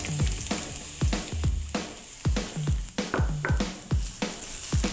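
Chopped onions fry in olive oil in a pan: a steady sizzling hiss broken by repeated soft thuds and scrapes as they are stirred now and then.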